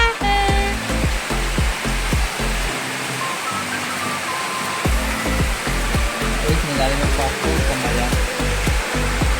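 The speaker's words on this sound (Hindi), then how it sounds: "फिर से बारिश आ गई" Rain falls steadily in Nainital, a dense, continuous hiss heard alongside loud rhythmic background music with a pounding beat.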